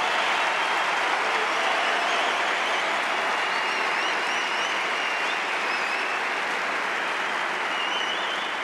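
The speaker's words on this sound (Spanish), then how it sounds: "Seguimos con los aplausos" Sustained, dense applause from a large audience at an economic forum in Madrid, an even wall of clapping that holds steady at a constant level for several seconds with no speech over it.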